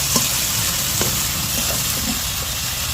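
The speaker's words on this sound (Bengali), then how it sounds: "পেঁয়াজ রসুনের সাথে আমি শুটকি ভাজা করছি" Dried fish and finely chopped potatoes fry with onion and garlic in a steady, close sizzle, with soft scattered taps of stirring throughout.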